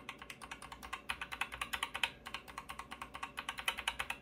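Fast, even typing on a GK61 mechanical keyboard fitted with swapped keycaps, heard up close as a dense run of crisp clacking keystrokes against a quiet background.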